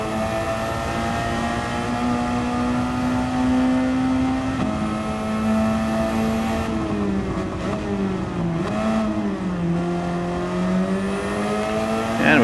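A race car in a racing video game holds a sustained, buzzing engine note that climbs and falls through gear changes and revs, loud and close throughout, with no voices.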